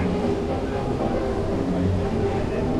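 The Steel Taipan roller coaster train at Dreamworld on a test run gives a steady, distant rumbling roar that stays constant throughout, mixed with outdoor theme park ambience.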